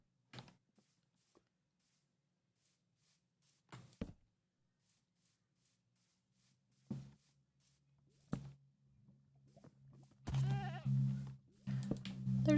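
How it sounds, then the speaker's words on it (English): Goat in a Minecraft village, a few short scattered bleats and faint clicks over a low hum, then a louder, longer bleat toward the end, with sparse talk mixed in. "There's a goat in the village."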